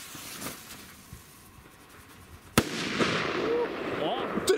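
Firecrackers bursting outdoors among fallen apples: a sharp, loud crack lands partway through and leaves a noisy fizzing rumble behind it, and a second sharp pop comes near the end, with faint background voices.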